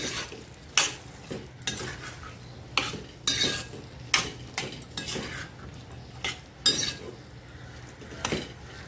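Cooked chickpeas being stirred into masala in a pan, a spoon scraping and knocking against the metal in regular strokes over a soft sizzle, close and without speech.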